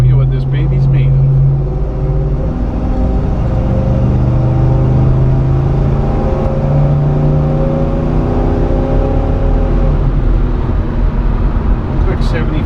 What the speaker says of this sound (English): We are out in our 1972 Monte Carlo. We're going to just hop on the highway here,